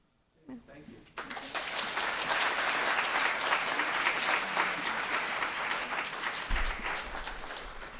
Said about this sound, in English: let's give our briefers another round of applause